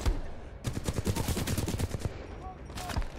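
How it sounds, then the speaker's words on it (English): Rapid bursts of gunfire fill a Titanfall 2 firefight, dense overlapping shots cracking close and loud for the whole stretch, with no talk over them. "Still getting shot at."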